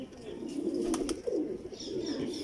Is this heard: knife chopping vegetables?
no